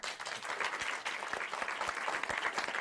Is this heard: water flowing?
no